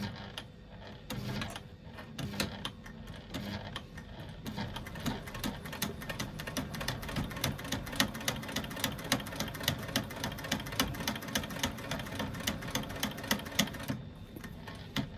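Sewing machine stitching a bag seam with a short construction stitch, a steady rapid mechanical patter that starts unevenly and then runs in a fast regular rhythm, close and continuous, then stops briefly.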